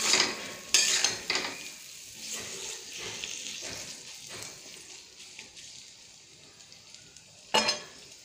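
Potatoes and spices frying together in a pan for a Bengali doi chingri, a close steady sizzle with a few sharp spatula scrapes and clanks early on and near the end.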